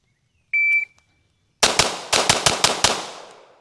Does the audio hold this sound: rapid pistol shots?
yes